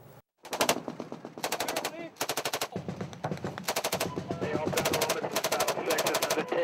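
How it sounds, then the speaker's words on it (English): Automatic gunfire crackles through a firefight at a remote Afghan outpost, repeated rapid bursts of machine-gun fire with short gaps between them, loud and fairly close, continuing throughout. "I believe that's a pretty good firefight up at Restrepo"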